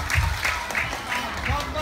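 An audience at an animal show claps for Jumbo, a short burst of applause with a talking voice over it.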